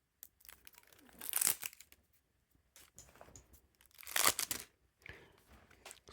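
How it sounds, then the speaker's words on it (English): Cellophane wrap being cracked and peeled off a pink Bicycle Jumbo playing card deck, with two loud crinkling, tearing bursts near 1.5 and 4.3 seconds and softer rustles between them, close up in a quiet room. "we gotta crack that cellophane."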